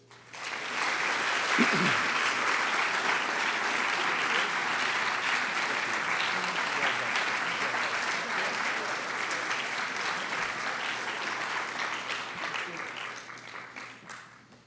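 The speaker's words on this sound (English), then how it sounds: "Please give a round of applause for all of our honorees" An audience at an evening awards ceremony applauds its honorees in a sustained round of clapping that swells quickly, holds steady, then tapers off near the end.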